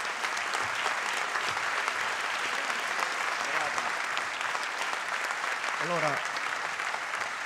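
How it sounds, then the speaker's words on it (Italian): Applause fills a school award ceremony as a student steps up to receive a scholarship, a dense steady clapping from the gathered audience that runs throughout, with a voice speaking briefly near the end. "l'applauso"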